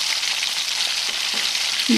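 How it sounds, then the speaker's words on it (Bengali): Egg scrambles in hot oil under a spatula, giving a constant, close frying hiss with faint scraping as it is stirred, no talking. "এবার ডিমটা তেলের মধ্যে দিয়ে দিচ্ছি, দিয়ে এবার খুন্তি দিয়ে এইভাবে ঝুরি ভাজার মতো করে নিচ্ছি"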